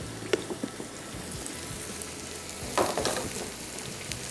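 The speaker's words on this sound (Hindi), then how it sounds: "प्याज भी करते जाएंगे फ्राई" Onions and chicken frying in a pan for a Pakistani-style chicken bhurta: a steady, close sizzle and crackle with a few sharper spits and a brief louder surge of hissing near the middle, no talking.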